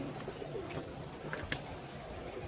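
Pigeons coo softly in a loft, low muffled calls scattered through a steady murmur of background noise, faint and fairly distant.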